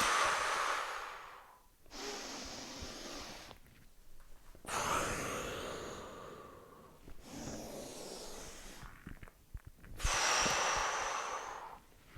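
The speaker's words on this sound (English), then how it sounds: "Breath in, maybe a breath out. Then maybe another breath in. And another breath out." Slow, deep breaths during kundalini yoga, long inhales and exhales alternating with quiet gaps, close and clear with no talking.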